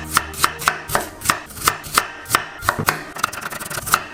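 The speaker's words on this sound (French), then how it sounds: "Voilà, nos pommes de terre sont coupées." A knife slices through potatoes on a cutting board in a quick, even series of about fourteen crisp, close chops, with no talking.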